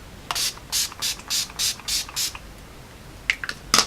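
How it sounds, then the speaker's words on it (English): Seven quick, evenly spaced spritzes of Urban Decay All Nighter setting spray onto a face, close by, followed after a pause by a few softer, scattered rustles. "I'm going to use the Urban Decay All Nighter setting spray real quick"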